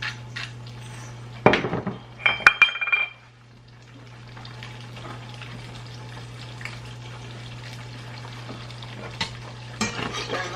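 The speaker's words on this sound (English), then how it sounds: "Stir my gravy." Gravy being stirred in a pan for biscuits and gravy, with a few sharp scrapes and utensil clinks early on, then a steady soft sizzle and faint stirring sounds over a constant low hum.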